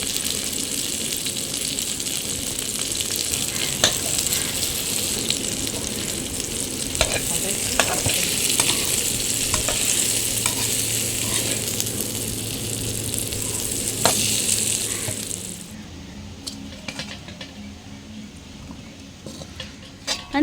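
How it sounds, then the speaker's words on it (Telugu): Bitter gourd frying with onion chili paste in a pan gives a steady, loud sizzle with scraping stir strokes for about fifteen seconds, then it quiets to faint scattered clicks and clatter. "ఇప్పుడు మనకి మిగిలిన ఉల్లికారం పేస్ట్ని అయితే ఇందులో వేసేసుకుని కలిపి మిక్స్ చేసుకుని ఫ్రై"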